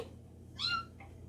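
A pet cat gives a single short meow near a home kitchen, followed a moment later by a fainter second call, against quiet room background.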